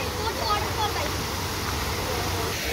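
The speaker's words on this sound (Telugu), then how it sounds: "ఇది కూడా ఒక వాటర్ ఫాల్ గైస్" A waterfall roars as a steady, dense wash of broadband noise that never lets up, with faint voices underneath.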